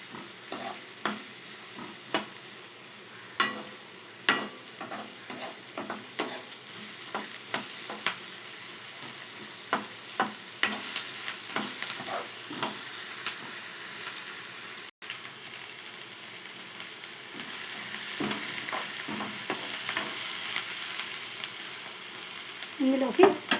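Chicken and onions fry with curry leaves in a pan, a continuous loud sizzle broken again and again by sharp scraping knocks of a spoon stirring, nearby and with no talk.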